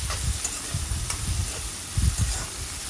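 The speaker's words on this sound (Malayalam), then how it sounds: "ഒന്നും കൂടെ ഒന്ന് ഇളക്കി കൊടുക്കാം." Onions fry with salt in a pan, giving a soft steady sizzle broken by a few scraping, thudding strokes of a spoon stirring them, with no talking.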